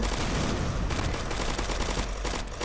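Dense, continuous rapid gunfire from zombie shooting in a Roblox game, a loud unbroken barrage of overlapping shots throughout with no talk.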